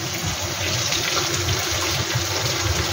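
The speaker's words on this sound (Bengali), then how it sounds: "তো চলো এর মধ্যে দেব জল আমি গরম জল দিই" Hot water poured into a cooking pan holding fried paneer and pointed gourd, a steady close splashing trickle running without break, with no talk.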